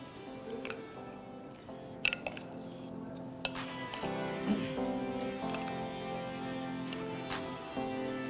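Salad with red chili tossed in a bowl, with steady clinks and scrapes of utensils against the dish and occasional sharper knocks, moderately close with a faint background hum.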